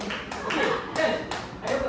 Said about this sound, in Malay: Okey, betul, tepuk tangan.